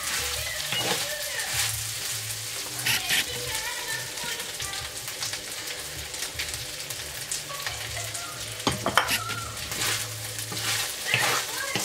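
Fried rice cooking in a pan for breakfast, with a steady crackling sizzle and occasional scraping stirs of a utensil against the pan throughout, under a low background hum.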